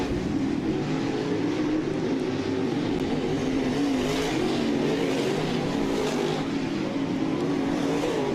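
Race cars roar down the backstretch at Southern Ontario Motor Speedway. The engine drone is steady and dense, with engines swelling and fading as the pack passes at a distance.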